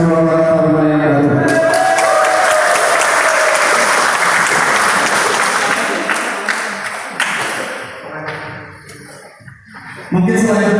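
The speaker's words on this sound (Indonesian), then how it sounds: "Jadi sekali lagi kita berikan tepuk tangan yang meriah kepada ketua parlemen yang baru." Loud, sustained applause from a crowd at a youth organization's election, greeting the newly chosen chairman; clapping builds after a short lead-in, holds steady, then thins and fades before a brief burst at the end.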